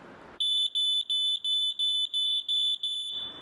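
A ceiling smoke alarm sounds its test button's rapid series of loud, shrill beeps, about eight pulses in a steady rhythm, close by and alone.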